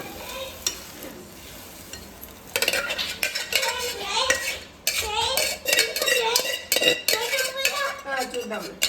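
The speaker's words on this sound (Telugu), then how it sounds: "ఇప్పుడు ఇదంతా బాగా మిక్స్ అయ్యేటట్టు కలుపుకుందాం" A spoon stirring cooked dal with tamarind and drumstick leaves in a metal pot, with rapid, loud, repeated clanks and scrapes of metal on metal that grow busier after a quieter start, over a faint sizzle.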